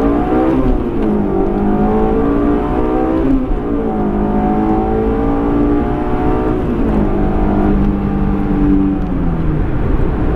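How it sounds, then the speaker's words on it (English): A 2008 Honda S2000 engine revs hard and loud in first gear, pitch climbing steeply, easing briefly, then surging upward again, close and continuous. "All right, let's see what this car is capable of. First gear, foot down."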